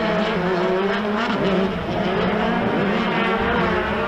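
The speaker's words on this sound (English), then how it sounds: "One more time around for the SoCal Fleet Services Pro Buggy race" Pro Buggy off-road race cars roar around a short course dirt track at a fairground, loud sustained engine wails with shifting pitch as several cars race and lean hard on their tires.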